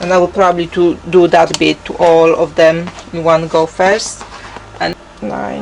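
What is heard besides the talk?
No everyday noise stands out behind the speech.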